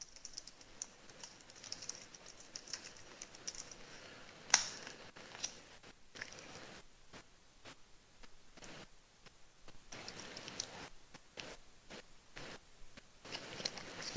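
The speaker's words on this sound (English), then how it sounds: "let me type my email address in here" Keystrokes on a computer keyboard as an email address is entered, with quiet, irregular bursts of clicky taps and short pauses, and no talking.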